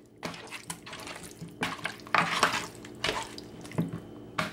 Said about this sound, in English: And I'm going to pour some of this oil off